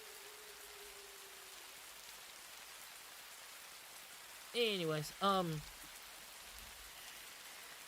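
Rain falls steadily in a dinosaur video game, a soft even hiss running through the whole stretch, with a voice speaking briefly over it partway through.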